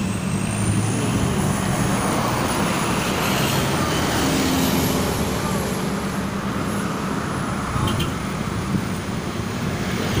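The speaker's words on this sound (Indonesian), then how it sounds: "Gitu teh bus bantuan pariwisata." A tourism bus stuck in a traffic jam on the Pantura Karawang road produces a loud, constant engine rumble and road noise. A brief hiss is heard near the end, like an air brake.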